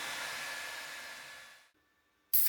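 Hair dryer blowing after a bath, a steady whooshing hiss that fades and cuts off, then a short loud burst of air near the end.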